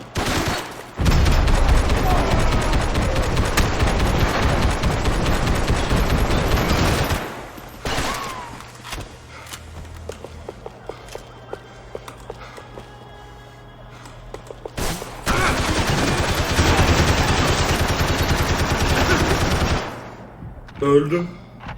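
Bursts of rapid automatic gunfire in Max Payne 3 during a shootout, loud sustained volleys, then a quieter stretch of scattered shots and mechanical clicks, then another long heavy burst.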